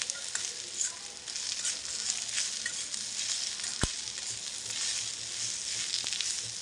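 A ground coconut and onion masala paste fries in a pan for a Malvani-style chicken dish over a medium flame, giving a continuous close sizzle with light stirring and one sharp clink partway through.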